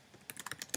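A quick, light burst of computer keyboard typing, with several close key taps in rapid succession, fairly quiet and alone.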